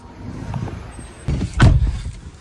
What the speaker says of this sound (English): And now we've got tons of traffic.